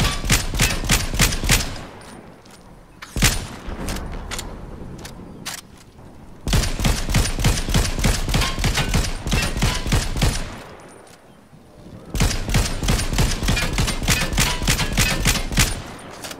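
Rapid bursts of automatic gunfire, many bullets fired in long sustained volleys with brief pauses between, loud and close, with no voices.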